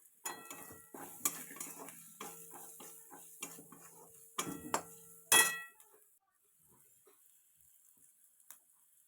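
Garam masala, turmeric and salt roasting with potato-curry spices in a pan, heard as scattered clinks and scraping stirs with a light sizzle, a sharp louder clatter near the middle, then near silence with faint ticks.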